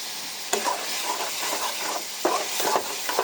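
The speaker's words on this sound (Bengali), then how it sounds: "এই যে কষাচ্ছি বড় চিংড়ি দিয়ে, ভালোই চিংড়ি দিয়েছি" Banana flower and large prawns sauté in a pan with onion, garlic and turmeric, giving a close, continuous sizzle broken by a few scraping stirs of the spoon.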